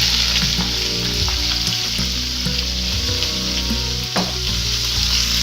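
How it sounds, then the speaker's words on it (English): Garam masala spices fry in hot oil, a steady, loud, dense sizzle that carries on unbroken, with a few soft stirring clicks and no voices. "once it heats up, I'm going to add all the garam masala spices into the oil"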